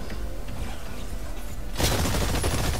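Sustained automatic gunfire aimed at a target in the video game Exoprimal, a steady rapid stream of shots that grows louder and brighter partway through.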